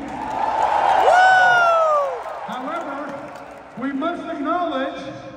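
Arena crowd at a WWE Monday Night Raw event in Atlanta, a loud roar of cheers and whoops that swells and then dips, with a voice speaking over the crowd noise.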